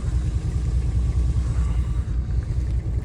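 A vehicle engine left running with a leaking exhaust pipe, rumbling steadily and loudly at close range with a low, throbbing pulse and no change in pace.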